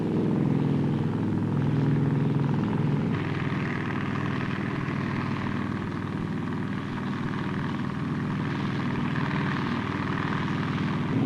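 A military helicopter from 1960 Royal Marines operations arrives with a steady, loud rotor and engine roar, a continuous broadband drone that persists throughout with no speech.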